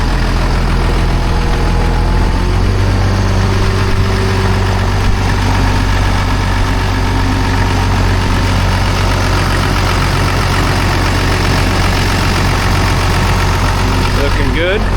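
A 955 loader's engine idles steadily to warm up, a continuous low diesel rumble with a constant tone throughout, fairly close and loud, with no voices over it.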